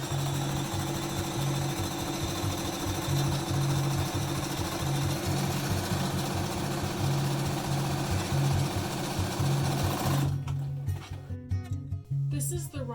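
A sewing machine runs steadily through a zigzag stitch along the 8.5-inch sides of a fabric mask, a continuous rapid mechanical whir with a regular pulsing rhythm that stops near the end, leaving faint handling noises.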